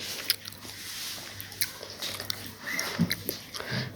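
Someone bites and chews a crunchy fried chop up close, with scattered crisp crunches and soft wet chewing at an uneven pace, faint and quiet overall.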